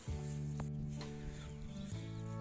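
Chickens clucking on a rural building site on a morning, with a steady low tonal drone underneath and a few brief, faint calls over it, no speech.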